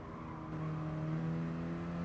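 Mini Cooper race cars in a Mini Cooper Cup race at the Brands Hatch GP circuit give off a steady, loud engine drone that swells slightly as they pass, with no voices over it.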